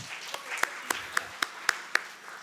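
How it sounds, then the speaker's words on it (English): A summit audience offers a thin, sparse round of applause, a handful of distinct, evenly spaced claps standing out over a soft, low background at moderate distance. "Why don't we give a big round of applause?"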